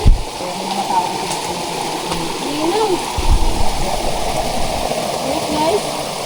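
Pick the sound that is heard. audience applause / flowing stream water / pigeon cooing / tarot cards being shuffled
flowing stream water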